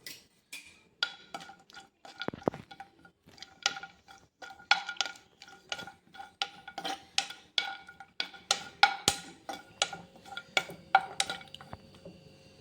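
About fifteen cashew nuts stirred in ghee in a pan for carrot kheer, a spoon scraping and clicking against the metal in a steady, irregular rhythm of sharp close taps, with a faint sizzle underneath and no talking.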